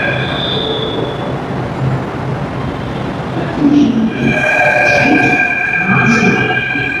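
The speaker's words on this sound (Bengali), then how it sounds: "এটা জয়পুর মেট্রো।" A four-car Jaipur metro train rumbles past heading toward Mansarovar, a steady loud roll that swells midway with high wheel squeal and electric whine, heard up close from the platform, with faint crowd noise beneath.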